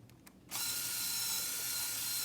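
Mechanism of a Lego 10196 Grand Carousel turned backwards, giving a steady close ratcheting, clicking whir that starts abruptly after a brief quiet moment and runs evenly to the end.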